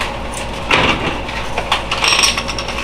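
A salt grinder is twisted over eggs, producing a close, dry ratcheting crunch in several bursts across a few seconds, steady and fairly loud with no talking.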